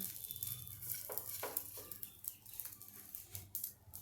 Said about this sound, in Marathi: हे ब्रेडचे तुकडे मी यामध्ये घालते हे आपण आता भाजूया